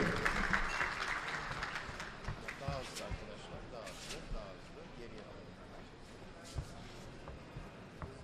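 Audience at the opening of Texhibition İstanbul applauding as the İTİP president is welcomed to the stage, clapping loudest at first and then thinning, with voices and stage noise mixed in.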